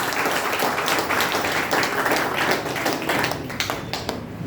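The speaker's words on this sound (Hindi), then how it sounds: "एक बार जोरदार ताली हो जाए इनके लिए, थोड़ा ताली बजा लीजिए" A training session audience in Jagdalpur claps loudly and continuously, a dense patter of many hands close by that stays steady for several seconds before easing slightly at the end.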